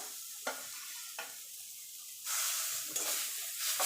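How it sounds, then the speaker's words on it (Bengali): Chhana mixed with sugar being stirred in a karahi over a low-to-medium gas flame, steady soft scraping and hiss with a few sharper spoon knocks, close and alone. "এইভাবে কিন্তু একভাবে নাড়তে হবে, না হলে কিন্তু তলা থেকে লেগে যাবে।"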